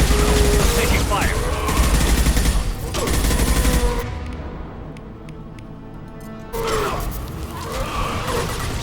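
Heavy gunfire in the video game Mass Effect 2, loud sustained bursts of shots that ease into a rumbling lull before another barrage resumes close by.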